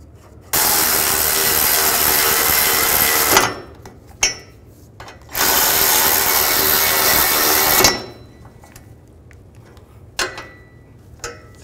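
A power tool drives the spring-loaded nuts onto the catalytic converter bolts of a 2008-2012 Ford Escape in two loud, steady bursts of about three seconds each, separated by brief clicks and clanks of handling, close and with no talking.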